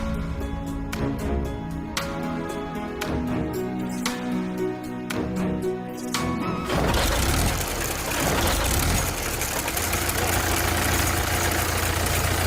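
A cartoon tractor engine running while pulling a Tata truck: a chugging idle with regular knocks at first, then a louder, rougher roar as it works under load.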